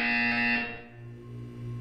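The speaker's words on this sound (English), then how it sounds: "When you hear the buzzer, look down at the floor." A loud electronic buzzer from the video game Portal 2 sounds alone: one steady, harsh alarm-like tone lasting under two seconds that drops to a lower droning pitch partway through.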